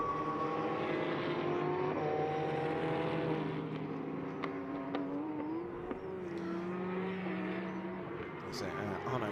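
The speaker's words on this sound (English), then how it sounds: "So Arno Gomez is wasting very little time getting his foot to the floor." A GL Racing Team Audi R8 LMS GT4 race car, number 13, accelerates hard during qualifying at the Portimão circuit, its engine note climbing and shifting steadily under continuous race commentary.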